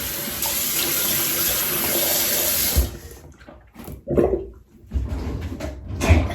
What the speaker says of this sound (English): And then I'm going to rinse my face.